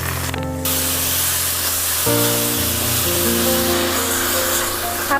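Strained leafy greens dropped into hot oil, set off with cumin and dried chillies, kick up a loud steady spraying hiss that goes on throughout, close up with a low hum underneath.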